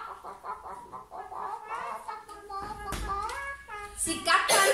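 A human voice imitates chickens clucking softly in their sleep, a run of gentle, rhythmic clucks and warbling tones that grows a little louder toward the end.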